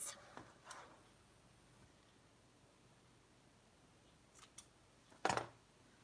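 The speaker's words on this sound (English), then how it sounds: "cut off the excess" Scissors snip off the excess string of a small handmade string closure on a DIY pen-pal folder, giving a single quiet cut near the end of an otherwise hushed stretch with a few faint handling taps.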